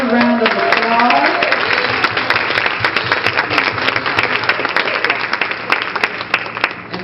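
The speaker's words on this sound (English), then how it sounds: "Let's give Sister Carruthers another round of applause." An audience at a church women's gathering breaks into applause: dense, close clapping that starts loud and continues steadily for several seconds with a few louder individual claps and some voices mixed in.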